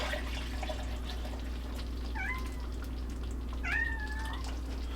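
A cat meows twice in a kitchen, a short cry followed by a longer, drawn-out one, faint against a low steady hum.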